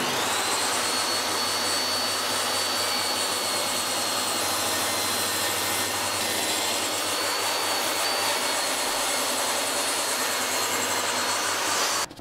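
A DeWalt DWE7485 table saw rips a length of cherry wood with dust extraction running, a loud, steady broadband whine that holds evenly for about twelve seconds with no talk.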